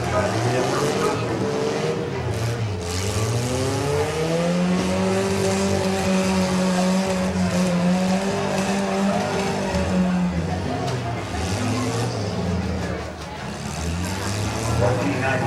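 Demolition derby cars at the Harrison County Fair rev hard and skid through mud, with engines rising and falling continuously while an announcer talks over the noise.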